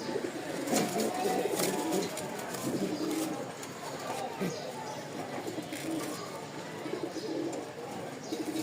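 Rajshahi Giribaz pigeons, a newly acquired male and female pair, give soft intermittent coos and rustles nearby over a busy, noisy background.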